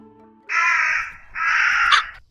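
A crow caws twice in a short film scene, two long harsh calls close and loud, alone with no talk.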